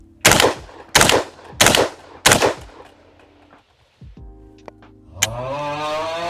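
A Browning Auto 5 semi-automatic shotgun firing regular target loads at a range, four loud booming shots in steady rhythm about two-thirds of a second apart, then mechanical clatter and quieter sounds afterward.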